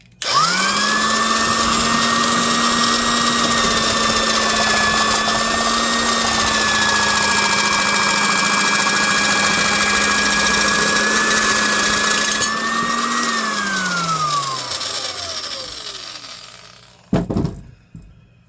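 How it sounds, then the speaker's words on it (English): Duplex Tools England industrial 10-gauge heavy-duty metal nibbler cutting thin aluminum, a loud continuous motor whine with rapid punching buzz held steady for about thirteen seconds, then winding down, followed by a brief clatter. "We'll do a little bit of cutting in something very weak aluminum, so it should be no problem with this."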